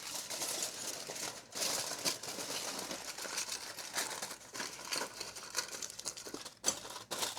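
Aluminium foil crinkles and rustles steadily while being wrapped around a juice bottle, a close, continuous crackle with brief pauses and no talking.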